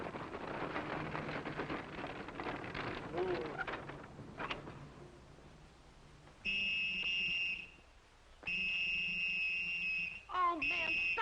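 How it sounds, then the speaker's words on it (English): A shrill whistle blows in several long blasts after a stretch of quieter rustling background, with short breaks between the blasts. "stop blowing that whistle"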